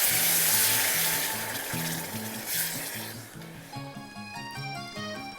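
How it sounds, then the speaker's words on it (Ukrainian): Fresh mandarin juice poured into melted sugar in a hot pan, a loud hissing sizzle that gradually settles into bubbling, with background music playing throughout. "Можете залити 70 мл фрешу"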